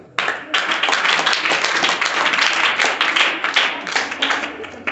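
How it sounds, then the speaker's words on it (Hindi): Students in a maths classroom burst into loud, dense hand clapping that starts abruptly and carries on steadily for several seconds, close and energetic. "ताली बजा दो।"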